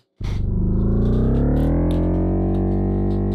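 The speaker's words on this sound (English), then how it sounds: "Here's the sound of engine starting." A saxophone note, stretched and pitch-shifted into an engine starting: it kicks in abruptly, then drones loud and distorted with a rich buzzing tone that slowly rises in pitch and holds steady to the end.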